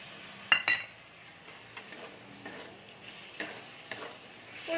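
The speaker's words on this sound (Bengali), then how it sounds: "ভেজে দিচ্ছি, মশলা কষতে কষতে পোস্তটাও ভাজা হয়ে যাবে একটু।" Spices and poppy seeds fry in a pan for an aloo-begun dish, a soft steady sizzle broken by a few sharp clinks and scrapes of stirring near the start and scattered taps after.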